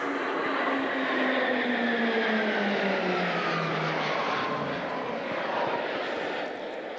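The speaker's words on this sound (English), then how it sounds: "Squadron Leader Carrots has now positioned the team for the T-fly past." Several RAAF Roulettes PC-21 aircraft pass overhead in formation at an outdoor Air Force memorial dedication, a loud, sustained propeller-engine roar whose pitch slides downward as the planes fly by, with no talking.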